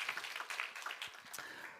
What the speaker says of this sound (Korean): 뜨겁게 박수 한번 하십시다